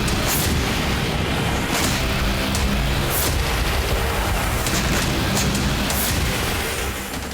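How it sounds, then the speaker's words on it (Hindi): Israeli bombing near Beirut airport in Lebanon makes a continuous, loud, distorted roar, with several sharp booming bursts rising above the din, no clear voices. "एक साथ कई धमाके और एक झटके में पूरा का पूरा इलाका कुछ इस तरह से खंडहर में"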